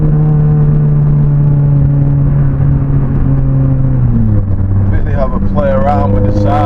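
A Honda Civic Type R FN with a resonated COBRA sports exhaust drones at a steady pitch, then drops lower before a few quick rising revs near the end, heard close and loud.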